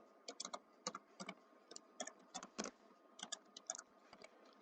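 Steady typing on a computer keyboard while entering code in Unity: rapid irregular clicks in small clusters, close but quiet, with no talking.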